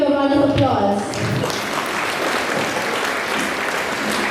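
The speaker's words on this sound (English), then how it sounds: "Kindly give them a round of applause." An audience at a school cultural program breaks into steady applause, dense clapping continuing throughout after a voice speaks briefly at the start.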